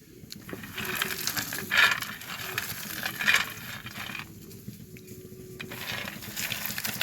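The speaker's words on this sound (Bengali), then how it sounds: "নারকেলটা যতক্ষণ ভাজা হচ্ছে আমি ততক্ষণ ভাজা বাদামগুলো খোসা ছাড়িয়ে নেব।" Grated coconut frying in oil in a pan (karai) for spicy fried puli pitha, a steady low sizzle with a few brighter crackling bursts, close and moderately quiet, no talk.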